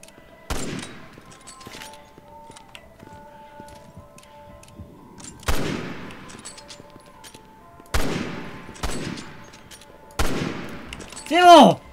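Gunfire in Resident Evil 6 comes as four sharp, loud shots spaced several seconds apart, each trailing off into an echo, with a final electronic sweep at the end.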